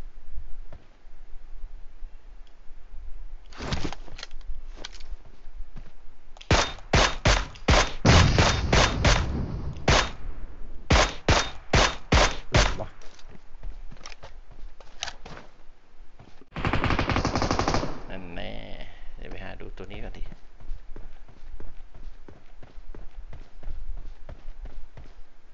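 Bursts of automatic gunfire in the mobile battle-royale game PUBG Mobile, played on an iPad, with rapid rattling volleys and single shots of varying distance repeating throughout, loud and continuous.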